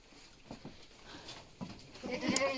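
A goat bleats faintly near the end, following a few soft thumps and rustles in a quiet barn-like space.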